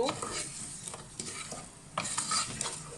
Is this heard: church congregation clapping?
no